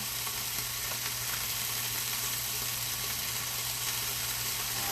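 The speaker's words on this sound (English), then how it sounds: "I'm also going to use my griddle to cook my tacos as well" Birria tacos cook on a hot griddle, giving a dense, continuous sizzle and crackle that holds at an even loudness throughout with no talking.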